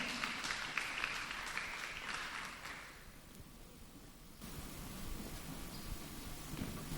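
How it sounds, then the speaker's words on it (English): Audience applause for a speaker at a TEDx Youth event, a dense patter of clapping for about three seconds that fades out, followed by quiet room noise and soft rustling. "A round of applause for Michelle Amangala"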